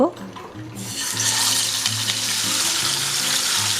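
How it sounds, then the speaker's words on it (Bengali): Topshe fish dropped into hot oil burst into a loud, bright sizzle after a brief quiet start, then keep frying with a steady close crackle and light spattering. "তেল গরম হয়ে গেলে চুলার আঁচটা কমিয়ে এক এক করে মাছ তেলে ছেড়ে দিব"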